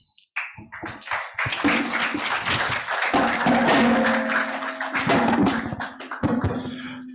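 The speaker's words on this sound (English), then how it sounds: "Another round of applause for Professor Adara Legbe" Applause from an audience at an arbitration and dispute settlement event, a dense sustained wash of clapping that starts abruptly and carries on steadily to the end, loud and close.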